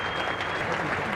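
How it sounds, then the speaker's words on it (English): A cricket ground crowd applauding John Arlott's last commentary, heard as a brief, full wash of clapping from many spectators with a voice speaking over it. "The applause was for John Arlott, his last commentary."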